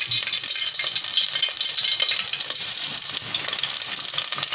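Onions frying in half a cup of hot oil in a cooking pot, a dense, steady sizzle that stays loud and close throughout with no pauses, and faint scraping underneath.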